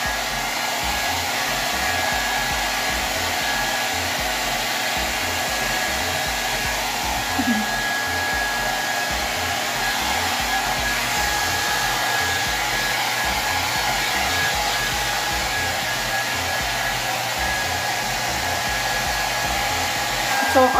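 A hair dryer blows with a steady, loud whir for the whole stretch, holding an even tone with only slight shifts.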